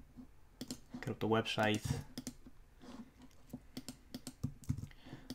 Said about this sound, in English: Just type in Dentist Liverpool again.